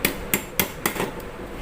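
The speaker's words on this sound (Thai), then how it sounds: "ก็ค่อยๆตอก" A hammer taps the stuck shaft of a Hatari electric fan during repair: four sharp metallic knocks about a quarter-second apart, then a couple of fainter taps, close and alone.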